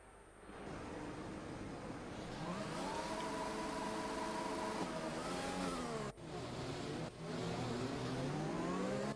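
Race cars in a racing video game roll off to start the formation lap, a continuous mid-pitched engine drone with rising and falling revs from several cars, loud and steady apart from two brief dips near the end.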